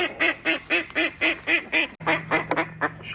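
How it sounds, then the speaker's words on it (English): A duck quacks loudly and close by in a brisk, regular series of about a dozen nasal calls, with a brief pause partway through before the quacking resumes. "You guys see this duck?"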